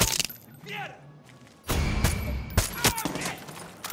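Gunfire in the Far Cry 6 video game: a few sharp, loud shots and bursts cracking out over game ambience, with a voice speaking in between.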